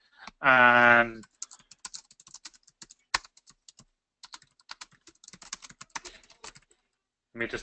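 A burst of speech, then quick irregular clicks of typing on a computer keyboard, close and fairly quiet, with pauses between key presses.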